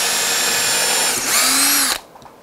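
A power drill bores a 2mm hole into an electric guitar body, whining loudly and steadily before the pitch shifts as the bit cuts through, then the motor cuts off abruptly.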